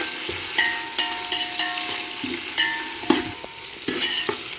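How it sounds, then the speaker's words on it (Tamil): Sliced big onions sauté in hot oil for mutton biryani, with a steady sizzle broken by repeated scraping stir strokes of a spoon against the pan, close and moderately loud. "பெரிய வெங்காயம் கொஞ்சமாக ஆட் பண்ணிக்கிறோம். ஆட் பண்ணிவிட்டு கொஞ்சம் நேரம் வதக்கிக்கலாம்"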